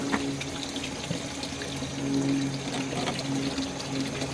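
Water gushing steadily from a pulled drain hose on a GE washing machine, a continuous close splashing rush with a low mechanical hum underneath.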